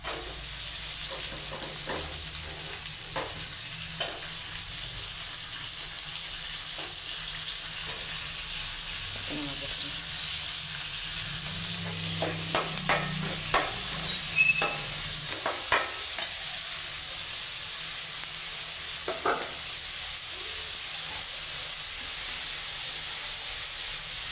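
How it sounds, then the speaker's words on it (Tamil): Tomatoes sizzle and hiss steadily in an oiled pan as sambar with drumstick leaves is cooked, while a spoon scrapes and stirs in irregular clanks and taps that grow busier midway, with no talking. "நல்லா வதங்கிடுச்சு இப்போ தக்காளியை போட்டுக்கலாம்"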